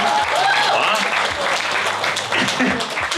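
A comedy-show audience applauds, dense sustained clapping filling the room, with voices and laughter mixed in under the clapping.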